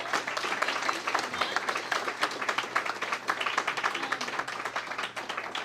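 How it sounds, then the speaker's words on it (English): Audience in a school library gives presenters a round of applause, many hands clapping in a continuous, moderately loud patter that runs throughout with a steady low hum beneath. "So folks, let's give these folks a round of applause."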